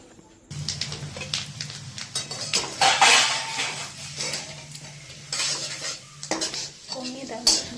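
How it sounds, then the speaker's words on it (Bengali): Spices crackling in hot mustard-style frying oil previously used for hilsa fish, sharp sizzling bursts mixed with clattering of a metal spoon against the pan, close and fairly loud. "দেখুন এটাকে প্রথমে গরম করে দিয়ে দেবো এতে ফোড়ন"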